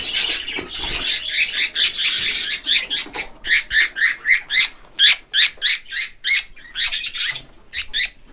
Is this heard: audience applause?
no